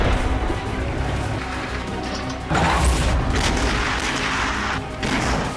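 Russian artillery fires on Ukraine in a dense, loud roar of noise, with heavier booming bursts standing out partway through and again near the end.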